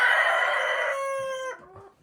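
Hens call out with a loud, drawn-out crowing cry that breaks into a few softer clucks as it fades, close by and with no one talking.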